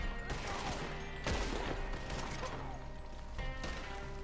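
Gunshots ring out in Red Dead Redemption 2 Online, with scattered sharp cracks and crashes over a dense, steady background of game noise, fairly quiet overall.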